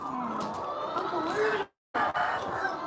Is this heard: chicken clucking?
yes